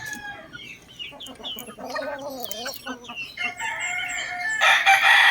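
A gamefowl cockerel crows in a backyard, its strained, rising call repeated over a few seconds amid faint background murmur, followed by a brighter, louder burst of noise at the end.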